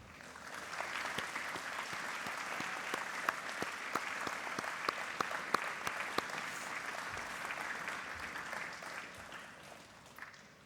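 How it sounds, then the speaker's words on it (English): Sustained applause from graduates at an engineering and information sciences graduation ceremony, directed at their families and friends, with dense steady clapping filling the hall throughout and no speech over it. "give them a warm round of applause for their unwavering support"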